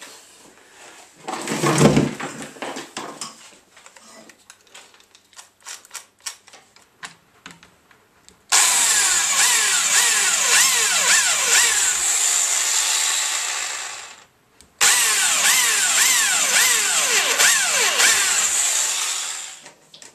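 A power drill whirs in two sustained bursts, each running several seconds with a steady high-pitched motor whine, after a few clicks and clatters of handling.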